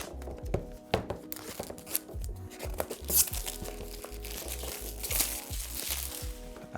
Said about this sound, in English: I'm just going to use the knife just to take off this first bit of the cellophane.